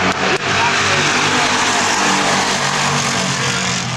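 Super stock race cars roar past on an oval track during a trophy dash, a loud dense engine blare that fills the whole stretch without letting up.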